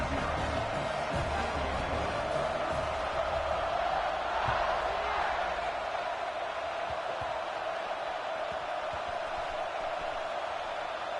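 A packed football stadium crowd before kickoff makes a steady, dense roar that stays loud and unbroken throughout, with no single voice standing out.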